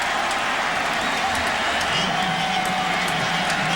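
A huge football stadium crowd at a Florida State versus Clemson game roars in a steady, loud, continuous wash of massed voices and cheering, with faint whoops rising out of the din.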